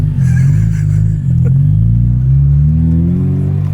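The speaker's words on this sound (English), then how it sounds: "he's gonna show us some VTEC" A Honda Integra Type R (Acura RSX) fitted with new headers and a 3-inch catback exhaust revs hard, its loud, steady engine note climbing in pitch through the second half as it pulls higher up the rev range.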